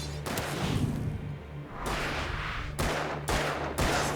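Enemy gunfire in the video game Alan Wake: bursts of loud, rapid shots separated by brief gaps, dense and close, with no talk.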